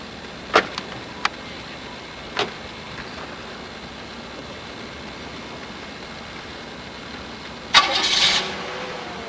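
A brand new car starts up as it leaves a museum lot: a few faint clicks and knocks, then a short, louder engine crank and whir near the end, in otherwise quiet surroundings.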